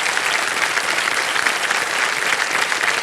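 A studio audience on a television quiz show breaks into sustained applause, a dense and even wash of clapping that holds at steady volume for the full three seconds with no voices above it.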